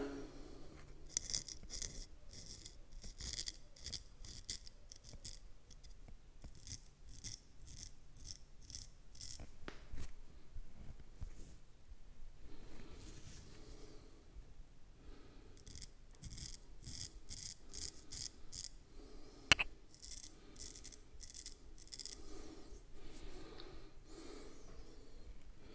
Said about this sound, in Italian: Devo dire che il rasoio canta e si sente, eh.